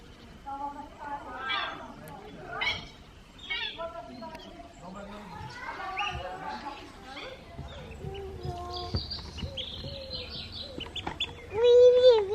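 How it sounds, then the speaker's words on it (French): Storks in an aviary at a forest holiday park, calling and clattering in a mix of bird sounds, with people talking nearby throughout. "Oh les cigognes."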